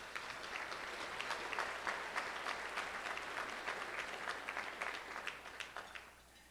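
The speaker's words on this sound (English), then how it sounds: "let's recognize her anyway with a round of applause" Guests at an award luncheon give a round of applause, dense overlapping claps from a seated crowd that swell and then hold steady, heard alone without speech.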